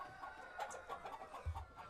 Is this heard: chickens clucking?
yes